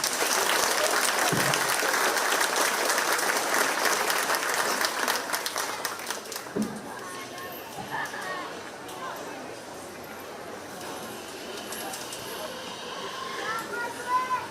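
Crowd at the Shelby County Fair applauding the fair queen candidates, loud sustained clapping that fades after about six seconds into murmuring chatter and voices speaking.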